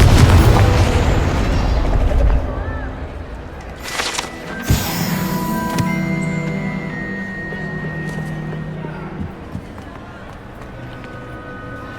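A Confringo spell blast in Hogwarts Legacy, a sharp explosive burst near the middle followed by fading ringing tones and magical shimmer over a busy game background.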